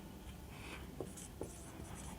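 Pen or pencil writing by hand on paper, a soft continuous scratching with a couple of faint taps, quiet and close, with no talking.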